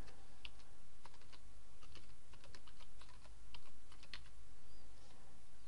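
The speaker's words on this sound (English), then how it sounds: "And I'm going to type the name in." Typing on a computer keyboard as a plugin name is entered: a run of quick, light key clicks in irregular bursts, close but fairly quiet, with no voices.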